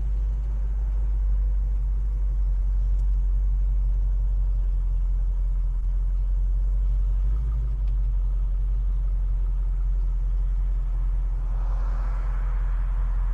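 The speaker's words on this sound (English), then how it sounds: "It's got a good, healthy sound from the engine and from the exhaust." A 1967 Chevrolet Chevelle SS convertible clone drives down a street, its engine and exhaust giving a steady, deep low rumble that holds evenly throughout, with no talking over it.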